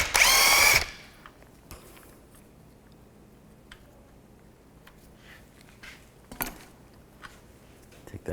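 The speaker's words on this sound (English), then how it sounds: "Using a 21mm socket, I'm going to take the nut off." A power tool with a 21mm socket spins a strut nut off a 2005-2010 Chevy Cobalt front strut, giving one loud, close burst of under a second, followed by quiet shop handling noises.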